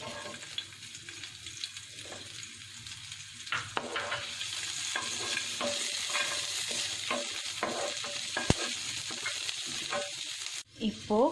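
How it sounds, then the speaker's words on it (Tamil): Shallots and garlic sauté in hot oil in a pan with chillies and urad dal, a steady close sizzle and crackle broken by repeated stirring scrapes and clinks, with no speech. "இப்போ சின்ன வெங்காயம் பூண்டு எல்லாத்தையும் இந்த எண்ணெயில் போட்டு வதக்கிடலாம்."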